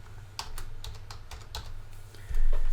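Typing on a computer keyboard to enter a description while programming a PAC controller, with a run of crisp, close key taps at an irregular pace and a louder burst near the end.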